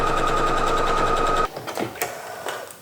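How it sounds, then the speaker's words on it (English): A sewing machine runs a continuous row of long basting stitches along the raw edge of a fabric ruffle, a steady mechanical whir for over a second before stopping, followed by a few soft handling clicks and fabric rustles. "Then we're going to sew a row of basting stitches 6mm or 1/4 inch from the raw edge of the ruffle"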